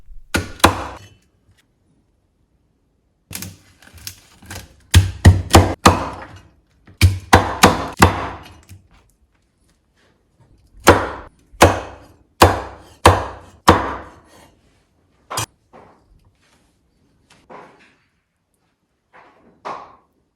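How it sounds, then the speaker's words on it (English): A knife chops air-fried crispy pork belly on a board in clustered bursts of sharp, crunchy thunks, several quick cuts at a time with pauses between, loud and close. "Chop up into preferred serving size."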